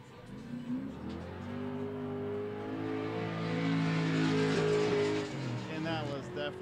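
Two drift cars battle in tandem at a Colorado competition, engines revving hard through shifting harmonic whines as they rise and fall, with tires scrubbing and a commentator talking over the action.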